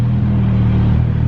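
Nissan S15 engine running with heavy fuel rich tuning: a steady, loud, low rumbling idle with a deep throb, close up and without voices.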